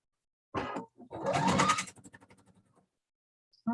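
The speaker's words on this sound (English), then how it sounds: "All right, sewing on the dart line. Don't forget to backstitch." A sewing machine stitches a dart line on a wrap top, with a short burst of stitching, a longer fast run, then slowing individual stitches that taper off before a brief restart at the end, close and fairly clear.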